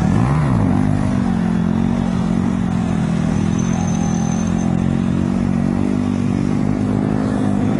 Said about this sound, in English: Let's do some wheelies at this guy taking pictures, man.